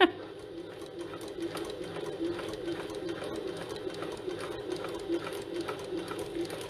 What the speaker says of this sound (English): So I'm sewing down the whole length as close as I can